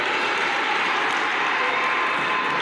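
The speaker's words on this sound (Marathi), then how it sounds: "तर आता सर मुलांना टाळ्या वाजवा" Students clapping together as a group, a dense, sustained burst of applause filling the room at steady loudness with no talk over it.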